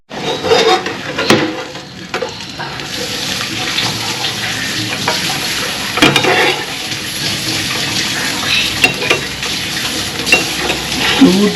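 An omelette frying in a pan at home, about to be flipped: a loud, continuous broadband sizzle fills the clip, with a few sharp clicks and knocks scattered through it.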